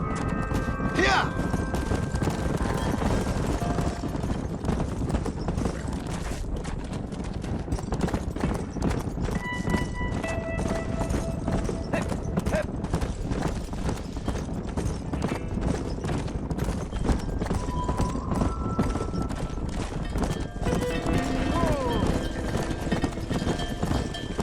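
A herd of horses gallops in the Red Dead Redemption video game while driven out to pasture, with dense, continuous, rapid hoofbeats that stay loud and close throughout, mixed with scattered shouts.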